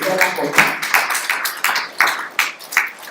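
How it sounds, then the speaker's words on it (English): A forum audience breaks into applause in an indoor hall: a few loud, sharp claps that repeat in a fairly regular pulse, with faint voices underneath. "I expect us to clap together for that."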